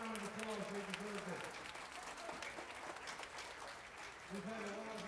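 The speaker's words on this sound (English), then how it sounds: "give them a round of applause, Mr. Zirkle" Clapping from the audience at a middle school band winter concert, steady and sustained throughout, with a voice speaking over it at the start and end.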